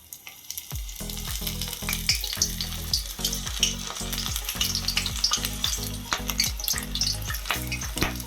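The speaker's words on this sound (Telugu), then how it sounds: "చక్కగా గోల్డెన్ కలర్ వచ్చేంత వరకు అయితే వేయించేసుకొని తీసుకోవాలన్నమాట" Sliced green chilli fritters in batter drop into hot oil and fry with a loud, bubbling sizzle up close. Rhythmic scraping stirs run throughout, and no one speaks.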